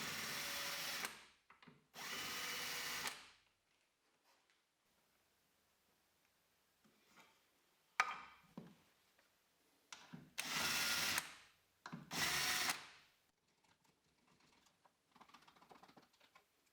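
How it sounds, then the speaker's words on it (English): A power drill whirs in several short, loud bursts driving screws for Blum clips on plywood drawers, separated by quiet pauses and small clicks and handling noises. "Now screwing on the Blum clips"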